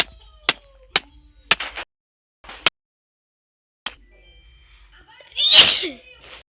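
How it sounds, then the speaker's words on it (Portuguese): A man with a cold sneezes once, a sharp loud burst near the end, after several brief clicks and short spoken murmurs. "Por que eu tô espirrando?"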